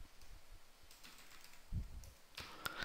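A few soft, faint keystrokes on a computer keyboard tap out a short word in a quiet room, ending with a couple of sharper clicks.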